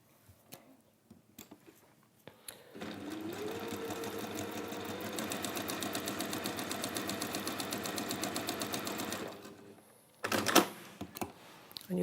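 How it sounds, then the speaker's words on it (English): A sewing machine stitching quilt fabric runs in one steady burst of rapid, even mechanical ticking for several seconds, close and clear, with light handling clicks and rustling before and after. "But you're going to sew down the one side."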